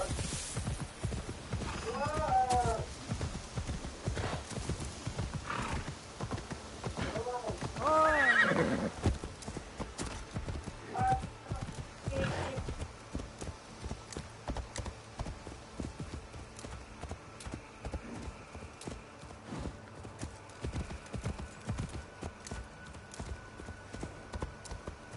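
Horse called in Assassin's Creed Shadows whinnies several times and clip-clops closer, hooves thudding in a steady rhythm over muddy ground amid game ambience; a person talks intermittently over it.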